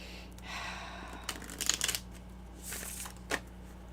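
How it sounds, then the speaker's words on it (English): A deck of playing cards being dovetail shuffled, with crisp riffling bursts in the middle and a shorter riffle and snap near the end, close and fairly quiet with no talking. "I love the way they go back and forth and do this dovetail thingy."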